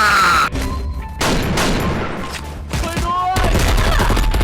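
Rapid bursts of gunfire ring out in a video game, loud volleys broken by short gaps and ricochet-like tones, with a player's voice talking over parts of it.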